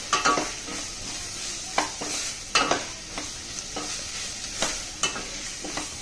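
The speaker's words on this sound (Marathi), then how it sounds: "थोडं शिजायला पाहिजे म्हणून अगोदर तेलात असं परतून घेऊया." Potatoes and green beans sautéed in oil in a pan for vegetable pulao, a soft ongoing sizzle punctuated by repeated spatula scrapes and clinks against the pan every second or so, close and with no talking.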